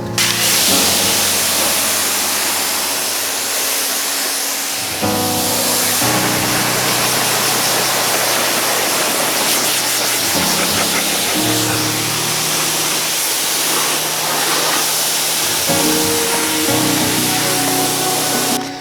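Pressurized water sprays steadily onto a car to rinse off bugs, a loud continuous hiss that shifts in pitch as the stream sweeps across the panels, with brief changes in the flow and no talking.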